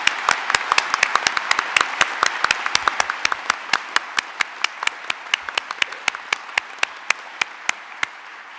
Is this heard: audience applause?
yes